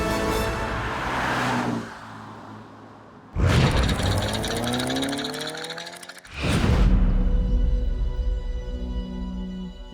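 A Jaguar E-type sports car drives past in bursts, its engine surging loud and close with rising revs and gear changes, fading between passes.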